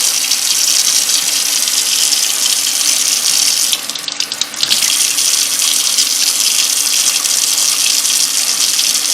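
Cherokee Purple tomatoes are washed under a running tap. The water gushes loudly and steadily, with a brief dip as the flow is interrupted midway.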